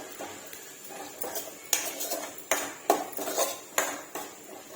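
A metal spoon stirs potato and egg curry in a pan, producing a series of sharp clinks and scrapes against the pan at an irregular rhythm, close and fairly quiet, with no voices.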